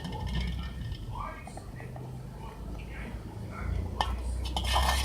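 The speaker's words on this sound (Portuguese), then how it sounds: "então, aí eu vou mexendo aqui, tá?" Homemade slime being stirred in a bowl, with soft continuous clicking and scraping of a utensil, faint and close, under low background noise and quiet speech.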